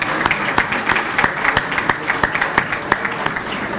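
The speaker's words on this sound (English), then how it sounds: "Let's have another round of applause for Chelsea and all of our Scouts." An audience applauds Scouts at a mayor's Good Scout breakfast, a steady round of clapping from a sizable crowd in an indoor hall, with individual claps standing out at an even, moderate loudness throughout.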